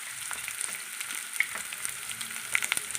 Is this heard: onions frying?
yes